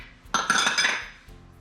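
Salmon and Israeli salad tossed together in a bowl, a short burst of clinking and scraping utensils against the dish lasting under a second, close and moderately loud.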